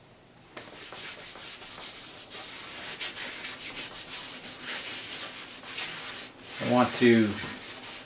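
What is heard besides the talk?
scrubbing a brake drum clean before powder coating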